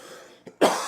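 One short, close cough sounds alone after a brief throat-clearing catch.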